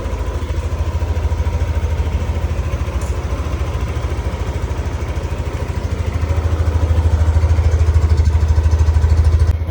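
A motorcycle engine runs steadily after a battery fix, with a continuous low rumble and fast putter that grows louder and heavier toward the end. No one speaks.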